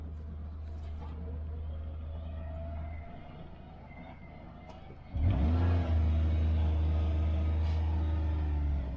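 A Kawasaki Mule Pro-FXR side-by-side rolls downhill on a rough trail, a low steady engine drone that drops quieter, then surges loud as the engine revs and holds a strong hum close by.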